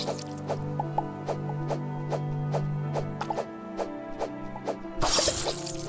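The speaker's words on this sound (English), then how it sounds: "I'm just killing chickens everywhere" Chickens cluck in the Starbound video game, a steady series of short, evenly spaced clucks over quiet game ambience, ending in a louder burst of noise.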